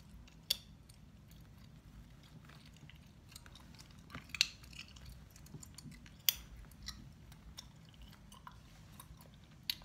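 Gum is chewed close to the microphone, with soft, wet, irregular smacks and clicks over a quiet hiss, no talking.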